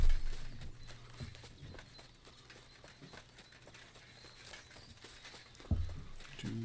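Horse hooves clip-clop at a steady walking pace in the video game Kingdom Come: Deliverance 2, quiet against a low background hum, with a thump near the end.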